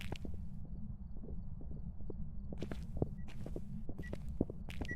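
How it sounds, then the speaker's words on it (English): A Phasmophobia ghost walks on the floor below the player in the video game. Soft, evenly spaced footfalls thud under a steady low hum of game ambience, with a few clearer steps toward the end. "I can hear its footsteps now that it's on, like, below me on a different floor"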